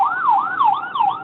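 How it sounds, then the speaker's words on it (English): An ambulance siren wails in a steady rising-and-falling sweep, loud and continuous, with no voices over it. "That's an ambulance."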